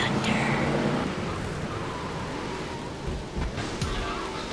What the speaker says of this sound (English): Because after you get struck by lightning, there's thunder.